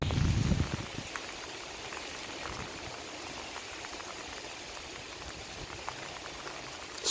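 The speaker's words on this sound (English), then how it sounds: "but it's raining so heavily you probably can't see anything" Heavy rain near the Collingwood monument in Tynemouth hisses steadily and densely throughout, a constant wash of pattering with a brief louder rustle at the very start.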